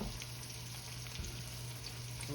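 Breaded zucchini slices fry in a skillet with a faint, even sizzle that holds steady throughout, with one soft knock partway through.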